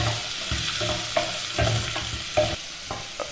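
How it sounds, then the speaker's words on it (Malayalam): Sliced onion and green chillies sautéing in a pan for a Kerala-style squid roast, with steady close frying hiss and repeated scraping stirs of a spatula at an irregular rhythm, no voices. "സവാള ഒന്ന് ബ്രൗൺ കളറായി വരുന്നത് വരെ വഴറ്റി കൊടുക്കാം."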